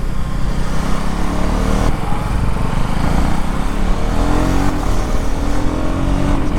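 A Husqvarna Vitpilen 250 motorcycle accelerates hard, its loud engine roaring steadily and climbing in pitch, with brief dips where quickshifted gear changes come through between pulls.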